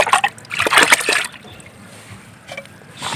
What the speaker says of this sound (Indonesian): Diaduk kembali sampai larut